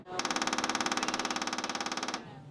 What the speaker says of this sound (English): The noise you're hearing? Those are the magnetic impulses